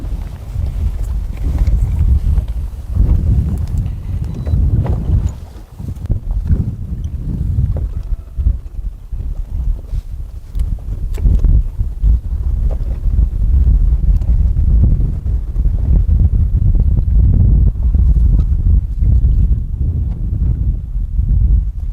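Strong wind of about 30 mph blows steadily across an open lake while fishing from a boat for walleye, a loud continuous rumble and buffeting close to the microphone with water slapping the hull.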